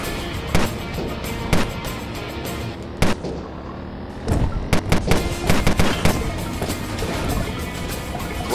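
Gunshots ring out in the motorcycle racing combat video game Road Redemption, with sharp single blasts spaced a second or so apart, then a faster cluster of shots over an ongoing engine-like game background, with no talk.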